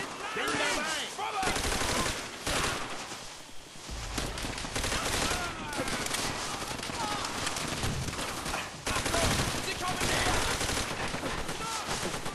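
Machine gun fire in the video game Call of Duty: World at War rattles in dense, loud bursts and sustained volleys throughout, close and harsh, with speech mixed into the battle noise.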